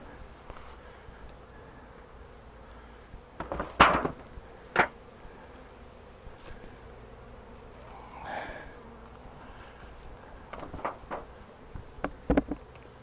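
Honey bees buzz around double nuc hives holding stored honey, with individual bees droning past close by in brief loud passes over a faint background hum.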